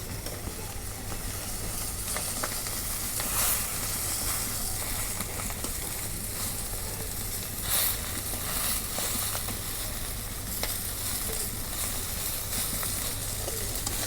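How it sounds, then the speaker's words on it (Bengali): Fresh river bata fish sizzle in hot oil, a continuous soft hiss with faint crackles and a few brief bright spits, steady and moderately quiet throughout with no talking. "মাছ ভাজা হচ্ছে"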